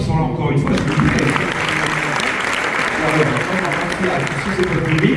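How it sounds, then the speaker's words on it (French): An audience at an evening contest of a motorcycle festival applauds again, a continuous crowd clapping with murmuring voices mixed in and a low, full backdrop. "applaudissons-là encore une fois"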